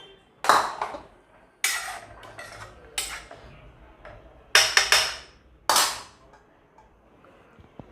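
Masala being stirred in a pressure cooker for mutton biryani: sharp metallic clanks and scrapes of a spoon against the pot, struck in a few loud bursts with quieter gaps between.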